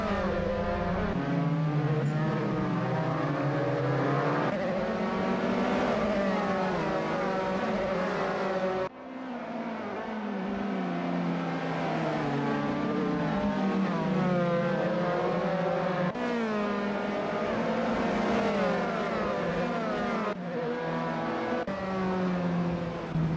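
A Dallara F317 open-wheel race car in a racing video game screams along at high revs on the Greifswald circuit, a loud, sustained engine whine that shifts pitch through gear changes, with no talking.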